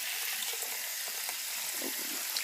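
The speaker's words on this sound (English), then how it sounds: "I just use cold tap water." Cold tap water runs in a steady hiss over blanched kale in a sink, with faint splashes and clinks as the greens shift under the stream.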